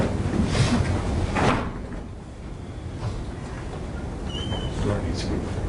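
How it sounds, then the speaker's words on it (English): A door in a courtroom thuds and rattles as it opens or closes, with a couple of knocking bumps early on. Muffled room noise and indistinct voices sit around it. "Door needs to be fixed."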